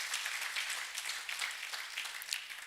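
At a global health leadership fellowship graduation ceremony, the seated crowd gives a fairly faint, distant round of applause, a continuous patter of many hands that carries on evenly throughout.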